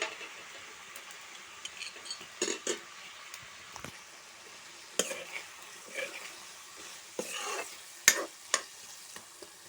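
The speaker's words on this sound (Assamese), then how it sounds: "আৰু এইফালে মোৰ জাতিলাও বাকলি আলু এনেকৈ ভাজি হৈ গ'ল।" Potato peels fry in a pan, giving a steady low sizzle broken by scattered stirring clatters and scrapes, with a few sharper knocks toward the end; no one speaks.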